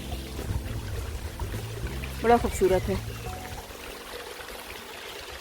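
A small waterfall on a river in the Lake District, its steady rushing flow heard close under a voice speaking briefly.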